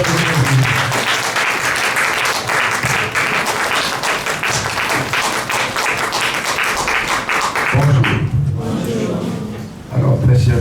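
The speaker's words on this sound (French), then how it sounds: "Veuillez applaudir pour la personne." Guests at an official wedding ceremony applaud in a long, loud burst of dense clapping that tapers off, with a voice speaking briefly over the end.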